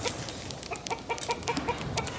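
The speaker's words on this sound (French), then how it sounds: "Pendant la journée, les poules se promènent, grattent la terre, à la recherche d'insectes ou picorent des graines." Hens cluck in a farmyard, a string of short, fairly close clucks over a faint outdoor background.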